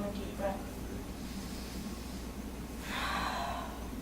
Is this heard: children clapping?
no